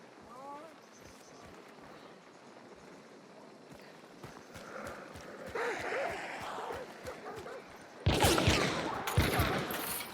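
A Bornheim No.3 pistol is fanned in the video game Hunt: Showdown, giving a rapid run of sharp, snappy shots. They start faint, grow louder and build into a loud, dense burst, with a voice talking underneath.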